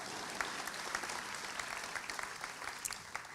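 Audience clapping at a Class of 2020 graduation ceremony sounds quiet and somewhat distant, a thin, uneven patter of scattered hands with a few sharper claps standing out.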